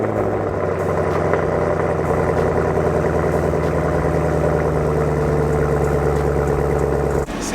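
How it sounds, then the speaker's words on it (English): Cold start of a Chevrolet Camaro ZL1 engine settling into a loud, steady, rumbling idle close by, holding for about seven seconds before a brief dip. "let's get this cold start and then we're gonna get to this drive"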